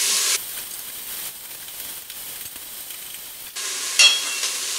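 Onions sauté in a pot as the start of a butternut squash soup, a soft sizzle that bursts louder at the start and again near the end, with a quieter hiss between and a brief clatter toward the close.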